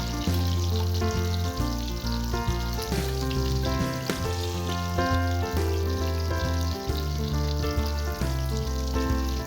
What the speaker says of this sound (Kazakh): Наггетстерди орто отто бышырабыз.